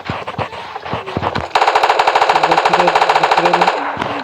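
Rapid automatic gunfire from a weapon in PUBG Mobile Lite bursts in loud and close, a fast regular string of shots following a few scattered single cracks and lasting to the end.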